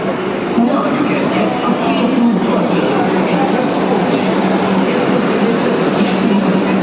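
A Kolkata metro train rolls into a station with a sustained, rumbling roar of wheels and carriages. It stays loud and continuous throughout, with crowd murmur and voices blended in.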